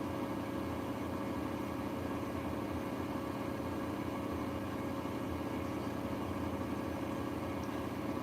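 A car engine idles steadily at 1000 RPM, a constant low hum with no change in pitch from start to finish, heard alone with no voices.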